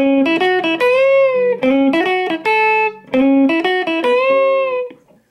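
A clean electric guitar plays a few quick blues licks, bright single notes with bends, repeated twice in short phrases, then fading out.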